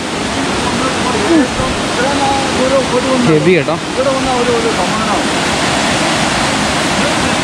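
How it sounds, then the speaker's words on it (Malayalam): A jungle waterfall in a rain-soaked forest at Kanthalloor roars as a loud, dense, unbroken rush of water close by, with a person speaking briefly over it. "അരുവിയല്ല, ആക്ച്വലി ഒരു വെള്ളച്ചാട്ടമാണ്"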